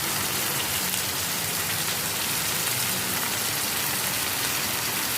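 Tomatoes fry in a pan over onion, ginger and garlic paste, a loud, continuous close sizzle like hard rain that holds steady throughout without any voices.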